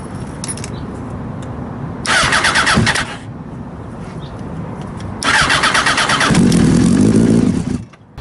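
Hybrid Honda-Yamaha motorcycle engine, reassembled after electrical work, cranks and fires in two loud bursts separated by a pause, the second catching and running briefly before cutting off, with no talking.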